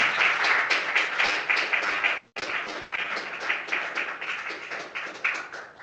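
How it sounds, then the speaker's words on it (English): An audience at a battery-research conference session in Brussels applauds speakers and panelists. The applause is steady and dense, breaks off briefly, then resumes. "give a big hand of applause to everyone"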